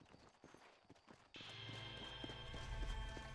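Horse hooves in Red Dead Redemption on Xbox One clip-clop loudly in a steady galloping rhythm, starting suddenly partway in over a dense wash of game sound and continuing to the end.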